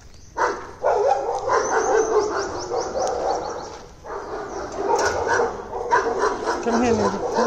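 A dog barks in short bursts on a morning walk, close and fairly loud, with a person talking over the barking.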